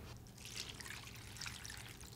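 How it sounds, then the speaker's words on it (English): About a cup of water poured into a cooking pot of fresh beets, a soft close trickle and dribble running steadily for a couple of seconds, faint and alone without speech. "And then lastly, we're gonna add some water."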